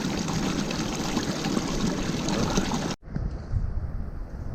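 Cold water pours and splashes during handwashing at a mountain base camp on the Bali Pass trek, a steady rushing flow close by that cuts off sharply, leaving quieter trickling.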